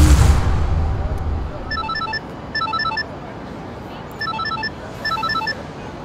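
An electronic telephone rings in four short trilling bursts, grouped in two pairs, clear above steady background hiss in a Haryanvi film scene.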